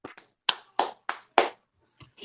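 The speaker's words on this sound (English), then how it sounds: "Round of applause for putting my Arizona people on" A handful of separate, sharp hand claps ring out in an uneven sequence during a live Saturday show, fairly close and loud, with short pauses between them and two softer claps at the end.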